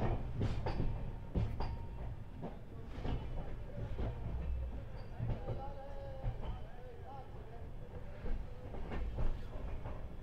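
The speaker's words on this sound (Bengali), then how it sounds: "এটা ছিল হাওড়া মুম্বাই মেল" The Howrah Mumbai Mail train rolls past with a steady low rumble and faint rhythmic clatter of wheels on rail, heard from a moderate distance through continuous background noise.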